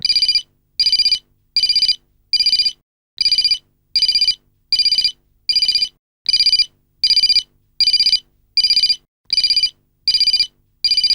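A phone ringtone rings loudly in regular, evenly spaced bursts, about fourteen rings with short silences between them.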